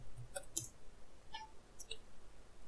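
A computer keyboard clatters quietly as a command is typed, a few scattered clicks and short bursts of keystrokes separated by pauses in a quiet room.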